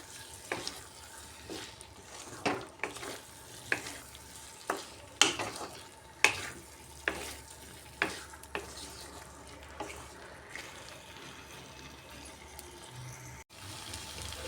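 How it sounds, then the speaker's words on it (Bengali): Potatoes being stir-fried with spice masala for a vegetarian alur dum, a quiet bed of sizzling cut by regular scraping spatula strokes roughly every second, close up, with no talking. "আলুগুলা দিয়ে আলুর সাথে মশলাটাকে একটু সময় খুব ভালো করে কষিয়ে নিতে হবে।"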